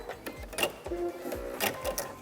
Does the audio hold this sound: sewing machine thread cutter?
yes